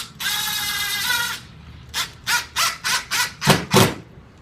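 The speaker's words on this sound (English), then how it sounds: "An impact driver." An impact driver sinks a drywall screw into a wall: a brief high whir, then a run of about seven sharp rhythmic hammering bursts, loud and close with no talking.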